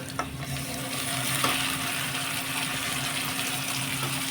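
Ground tomato goes into a pan of frying onion and garlic for fish curry, giving a steady moderate sizzle with a faint hum and soft stirring scrapes, no talking.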